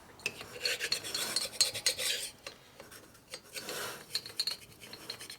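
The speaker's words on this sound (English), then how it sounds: "Don't get your fingers in front of the scraper." A carbide hand scraper rasps across a 1990s Harley Sportster 1200 cylinder head in bursts of close, gritty scraping strokes separated by short pauses.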